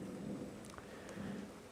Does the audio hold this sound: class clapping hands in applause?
no